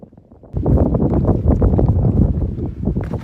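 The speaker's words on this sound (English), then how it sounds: "It's awful windy, so I apologize for the audio." Heavy wind buffets the microphone on an exposed mountain summit, a loud, low, rumbling roar that kicks in suddenly after a quieter start and keeps gusting unevenly.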